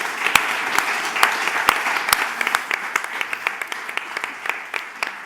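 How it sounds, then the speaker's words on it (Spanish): An audience at the close of a seminar at Palau Macaya applauds in a steady, moderately distant patter of many hands, with a few sharper individual claps standing out, lasting several seconds. "un aplaudimiento de nuevo"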